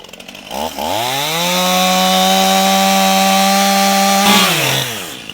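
A chainsaw cuts during recovery work on an abandoned Mack oil field truck, revving up into a loud, sustained, buzzing drone close by, then dropping back off at the end, with no talk over it.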